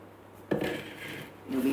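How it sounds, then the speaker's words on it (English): A spatula scraping the sides of a Thermomix bowl, a sudden clunk followed by a soft, sustained rubbing scrape, then another contact near the end. "now we're going to scrape down the sides with the spatula"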